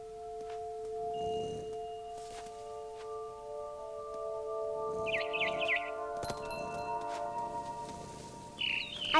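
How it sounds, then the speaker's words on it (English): A barn swallow chirps in the video game What Remains of Edith Finch, a few short, fairly faint tweets over a quiet sustained musical drone, with no talking. "Then I heard chirping outside my window. It was a barn swallow going back to her nest."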